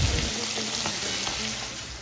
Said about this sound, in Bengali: আর এদিকে হচ্ছে পটল ভাজা।